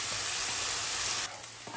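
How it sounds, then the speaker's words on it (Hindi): Onions fry in a pan as the base for a Nellore-style South Indian masala fish curry. A steady close sizzle hisses alone and drops slightly in level near the end. "रंग बदलने तक फ्राई करते जाइए।"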